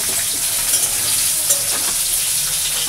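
Garlic, black cumin and green chilli sizzle loudly in hot oil for a tempering, a dense, steady frying hiss heard up close, with faint stirring scrapes and no voices.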